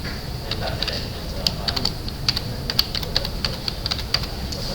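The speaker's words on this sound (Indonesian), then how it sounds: "Kita input jenis pemindah tanganannya. Kita inputkan lagi subnya." Typing on a computer keyboard during data entry, a quick, uneven run of close, light key clicks that continues steadily over a low background hum.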